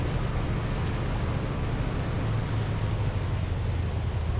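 Ocean waves wash steadily around a fishing boat in the Fishing: North Atlantic video game, a soft, constant rumbling surf with no voices over it.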